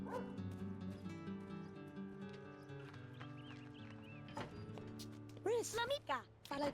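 In The Sims 2, a dog barks and yips near the end after a stretch of background game music, with short, sharp, close barks and a voice talking softly underneath.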